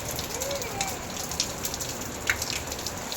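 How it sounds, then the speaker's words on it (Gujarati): Heavy rain pours steadily in Surat, a continuous broadband hiss with scattered louder drops and splashes close by, with no speech. "અને હું તમને બતાવું જો કેટલો વરસાદ ચાલુ છે આજ."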